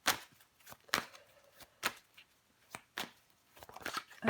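Tarot cards being handled on a table during a reading: a series of short, crisp slaps and shuffles at irregular intervals, close and fairly quiet.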